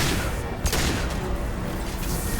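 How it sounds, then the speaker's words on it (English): Heavy weapon fire in Mass Effect 2 roars as a continuous dense barrage of booming blasts, loud and close, with one sharper burst standing out early. "You have to use heavy weapons on this thing."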